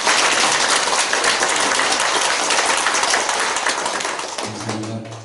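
A church congregation claps steadily in sustained applause during a dedication and ordination thanksgiving service, the dense clapping fading slightly toward the end as a low instrumental tone enters.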